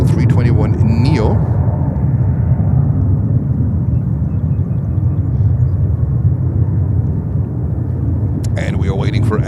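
JetBlue Airbus A321neo taking off from JFK in winter with heavy winds, a loud, steady broadband jet roar sustained throughout, with brief voice fragments at the start and end.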